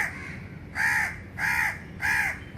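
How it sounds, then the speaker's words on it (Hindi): A crow caws three times in a slow, evenly spaced rhythm, loud and close, with light background noise between the calls. "आज फिर आ गया ये कौवा"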